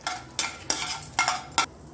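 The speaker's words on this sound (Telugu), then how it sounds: "ఇప్పుడు అదే పాను క్లీన్ చేసుకొని పోపు పెట్టుకోవాలి ఆయిల్ వేసాను ఆవాలు జీలకర్ర మినప్పప్పు" Mustard seeds, cumin and urad dal tempering in hot oil in a pan, heard as five short sizzling bursts with stirring scrapes in between, close and alone without talk.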